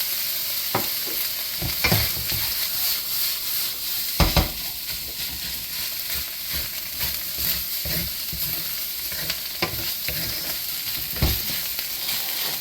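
Beef fried rice frying in a pan as soy sauce goes in, a steady close sizzle broken by scattered scraping and stirring knocks from the utensil.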